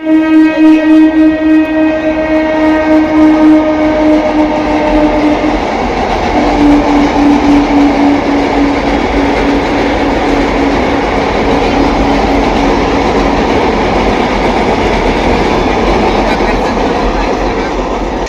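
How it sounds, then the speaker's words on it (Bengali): A train rumbles past overhead on a raised track amid scenic surroundings, loud and continuous for the whole stretch, with a strong steady tone early on that fades into broadband rolling wheel noise as the cars keep passing. "এই যে ট্রেনটা ওপর দিয়ে গেল"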